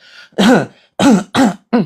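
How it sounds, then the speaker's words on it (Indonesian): Four loud, close coughs in quick succession, harsh and throaty, separated by brief silences, with a faint murmur at the start. "Kemudian batuk-batukan."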